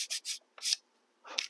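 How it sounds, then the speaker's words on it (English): Short scratchy strokes of sandpaper rubbing dried filler putty on a model building: two quick passes, a pause, another stroke, then a final rougher pass, close and fairly quiet. "let that stuff dry, and then it's time to do some sanding"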